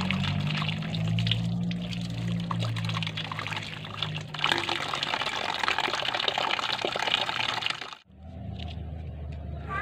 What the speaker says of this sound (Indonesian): Setelah terpotong-potong, alangkah baiknya cuci dulu seperti ini.